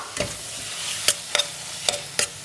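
Spice masala is stirred and fried in a pan: a spoon scrapes and knocks against the metal about six times in an uneven rhythm over a soft, steady sizzle, with no talking.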